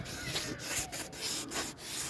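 A scuffed car bumper is wet-sanded by hand outdoors with fine-grit sandpaper, producing soft rhythmic back-and-forth rubbing strokes about four per second, close and quiet with no talk.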